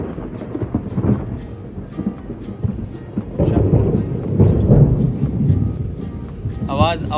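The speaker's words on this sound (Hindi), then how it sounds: "मतलब बहुत ज़्यादा खतरनाक तेज बादल गरजे हैं भैया।" Rolling thunder rumbles through a heavy rainstorm with steady rain, growing louder midway, while someone talks faintly underneath.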